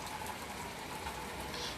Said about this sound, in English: as we as we out here looking at the rain